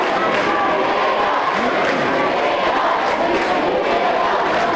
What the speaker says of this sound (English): Now we hear the Eagles cheer going up loud here.